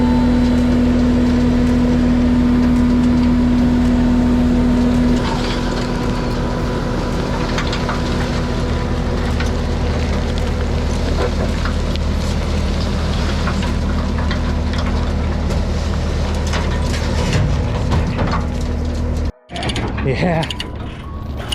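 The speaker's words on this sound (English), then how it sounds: "So we got Blake back here with the skid steer." A skid steer works near the camera digging out dirt, its engine droning steadily with clanking, rattling bucket and track noises throughout, ending in a brief cutout and scraping bursts.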